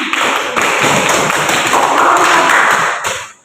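A primary school class in Lagole applauding together, dense, loud, steady hand clapping from many children that holds evenly for about three seconds before tapering off abruptly.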